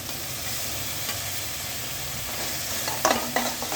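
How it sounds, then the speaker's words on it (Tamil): Tomatoes sauté with onion and ginger-garlic paste for a chicken kulambu, a steady close sizzle with a few sharper stirring clatters near the end, no voices. "தக்காளி நல்லா வதக்கிக்கலாம்"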